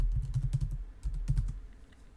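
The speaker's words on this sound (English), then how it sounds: "Type in the iCloud password once more." Fingers typing a password on a Mac computer keyboard, with soft, close key clicks in short quick bursts and a brief pause between them; no talking.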